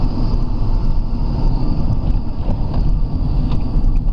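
A Nissan Qashqai running on LPG is held at high revs, giving a loud, steady engine roar with a faint higher whine and no pauses.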